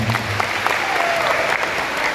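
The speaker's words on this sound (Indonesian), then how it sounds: "Tepuk tangan dulu dong buat Mas." An indoor audience claps in a dense, steady burst of applause at a training session, loud and continuous from start to finish.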